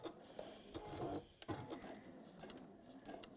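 A sewing machine runs stitches along a length of fabric, giving a soft, rapid mechanical whir and clatter at low level that stays steady throughout with small bumps.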